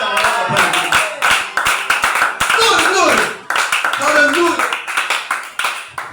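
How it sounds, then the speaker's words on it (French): A church congregation applauds together in sustained, dense clapping that swells and briefly dips midway before resuming, with voices calling out over the claps. "Acclamons pour vous-même."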